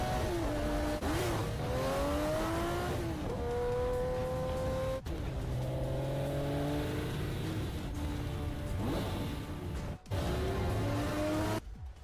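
Engine of a showcased car revving loudly during a game cutscene in Resident Evil 4 Remake, rising and falling pitch sweeps, sustained throughout with brief dropouts, no talking.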